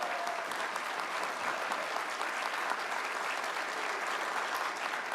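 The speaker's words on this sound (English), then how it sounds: "give everyone a round of applause for what they brought to the table." Steady applause from an audience at a provincial election night event in Prince Edward Island, dense and even from start to finish, with no voices rising above it.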